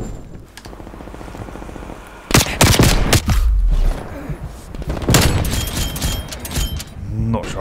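Gunfire in Call of Duty Black Ops Cold War comes in loud bursts of rapid shots and booming impacts, with pauses between volleys and a speaking voice underneath.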